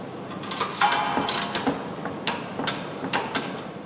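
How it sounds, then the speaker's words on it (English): A torque wrench on small engine muffler nuts, set to 106 inch-pounds, gives a quick run of sharp ratcheting clicks and a few separate clear clicks, close and fairly quiet, with no talking. "Make sure the torque wrench clicks."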